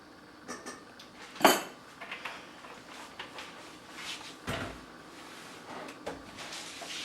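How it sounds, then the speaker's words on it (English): A metal cooking pot is handled in a home kitchen ahead of deep frying in oil, with a sharp clink early on and scattered light clatters and knocks of pots and utensils at close range. "Now I take a pan, a pot, and I put about, I'll show you how much oil, because you're going to deep fry it."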